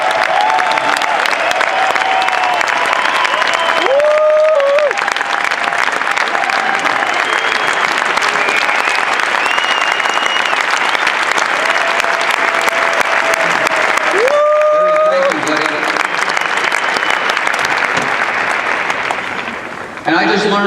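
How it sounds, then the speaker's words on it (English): A large audience applauds a regional vice president, with sustained loud clapping filling the room for about twenty seconds while a voice talks over it, before the applause fades at the end. "Yes, he deserves a round of applause."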